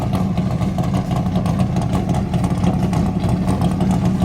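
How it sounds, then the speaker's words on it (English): Several Mopar muscle cars idling together first thing in the morning at a motor speedway, a steady loud lumpy rumble with rattling, continuous throughout. "First thing in the morning, listen to these Mopars rattle"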